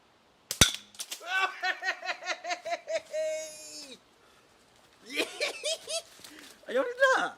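One sharp, close gunshot at a target in a wild forest, followed by bursts of laughter and voices talking.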